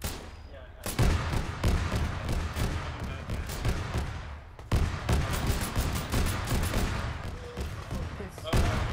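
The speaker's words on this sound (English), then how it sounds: "Another auto cannon fire, I think, at the tank." Autocannon fire in the ArmA 3 video game, aimed at a tank, breaks out in loud, dense bursts of rapid shots. A brief lull in the middle is followed by more sustained firing, and faint voices can be heard underneath.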